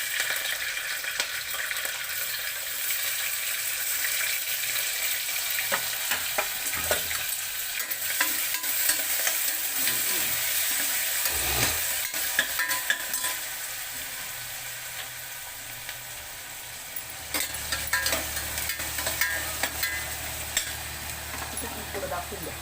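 Onion frying for masale bhat, with a spoon stirring and scraping through the pan over a continuous sizzle; the scraping comes in bursts, and a low hum joins near the end.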